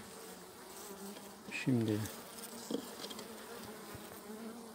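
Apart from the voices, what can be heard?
honeybees buzzing at a hive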